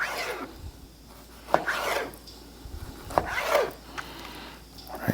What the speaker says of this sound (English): So go ahead and cut your breast in thin strips like so.